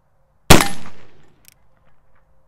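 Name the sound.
1851 Navy .44 cap-and-ball revolver gunshot at target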